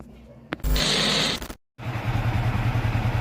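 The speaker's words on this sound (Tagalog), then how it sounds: "naka-on na yung yung makina, yung motor" A Yamaha Sniper 155 motorcycle starts, cuts out briefly, then settles into a steady, close, pulsing idle.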